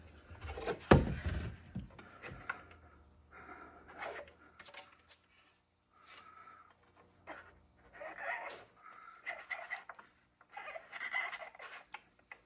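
A John Deere MaxEmerge planter seed meter, upgraded with a precision meter and repower kit, is turned by hand and spins tight, giving close scraping and rubbing noises in uneven bursts with quiet gaps between them.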